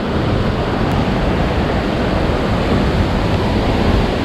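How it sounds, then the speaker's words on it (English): A big waterfall in Martvili Canyon, Georgia, roaring as a loud, unbroken broadband rush of falling water heard up close, with no voices over it. "Oh, it's a big waterfall."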